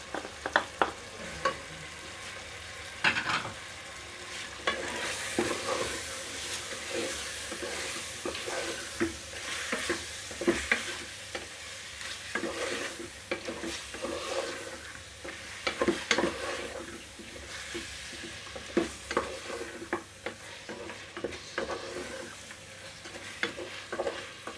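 Chicken masala with crushed red chilli, salt and turmeric fries in a pan with a steady sizzle, as a spatula stirs and scrapes repeatedly, giving irregular clatters throughout.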